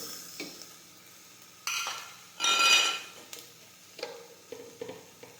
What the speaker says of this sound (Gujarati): જીરું નાખીશું સમારેલા ટમેટા નાખીશું